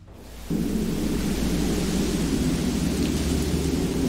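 Heavy rain roars in suddenly after a quiet moment and holds steady, a dense hiss with a low thunder rumble underneath, in the video game The Walking Dead: The Final Season.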